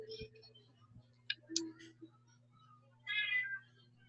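A cat meows faintly and briefly several times in a quiet room, ending with one clearer, drawn-out meow, over a steady low electrical hum.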